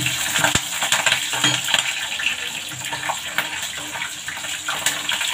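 Cashews with green and red chilies fry in hot oil for lemon rice, a dense, close, continuous sizzle with a sharp clink near the start and faint stirring underneath, no speech.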